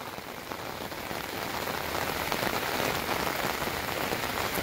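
Heavy rain pours steadily onto Naini Lake in Nainital, a dense, continuous hiss of drops close by with no voices, building slightly in intensity.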